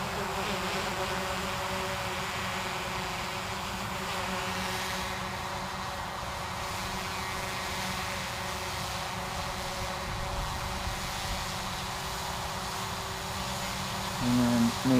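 A Hubsan Zino Pro drone hovers overhead with a constant buzzing whine of its propellers, steady and moderately distant throughout, with no talking.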